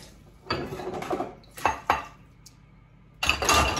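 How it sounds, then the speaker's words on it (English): Dishes being arranged in a pulled-out dishwasher rack, with close clattering of plates and clinking cutlery in several separate bursts, the last one longer. "We can keep arranging our dishes as this tray is out."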